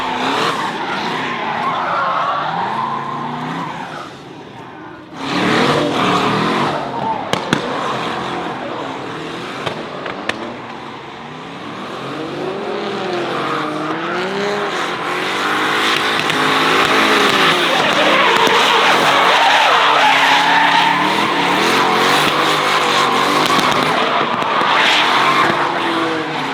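A twin-turbo Toyota V8 EG hatchback drift car, converted to rear-wheel drive and making about 600 horsepower, drifts with revving engine and long tire squeals. Several loud passes come close in an open event setting, with brief sharp bangs along the way.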